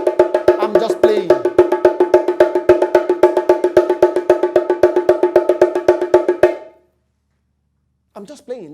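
A hand drum played in a fast, even run of sharp, ringing hits for about seven seconds, then silence, then a brief voice. The steady, unbroken pattern is played with no rests.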